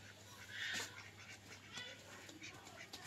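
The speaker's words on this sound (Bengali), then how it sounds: "হাঁস দুটো বন্ধুরা কিনে নিয়ে আসছে" Two ducks quack faintly in short bursts at a rural home garden, with a steady low hum and soft background noise.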